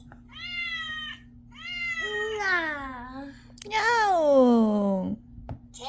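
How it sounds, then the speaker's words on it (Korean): A cat meows three times in long, drawn-out, wavering calls, close and fairly loud, the last one rising into a strained cry, with a low steady electrical hum underneath. "고양이"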